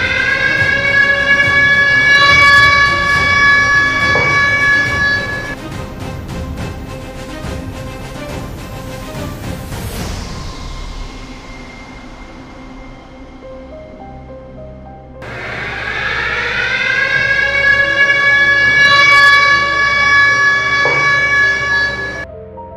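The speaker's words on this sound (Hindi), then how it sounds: "इस प्रकार से लंबा सायरन बजेगा।" A civil defense warning siren sounds during a war mock drill: a loud, long, steady wail that fades to a low drone midway, then rises again into a second sustained blast.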